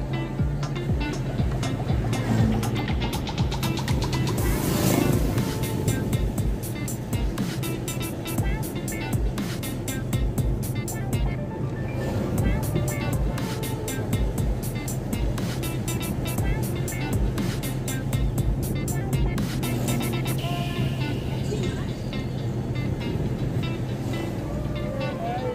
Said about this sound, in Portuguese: Eu percebi algumas motos, meus amigos